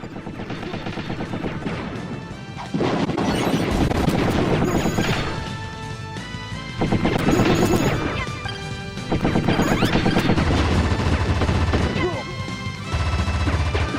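Wild Guns plays with dense bursts of gunfire, crashes and explosions in rapid succession, loud and continuous, layered over game music.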